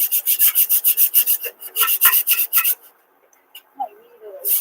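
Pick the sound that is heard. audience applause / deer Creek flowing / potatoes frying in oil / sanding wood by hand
sanding wood by hand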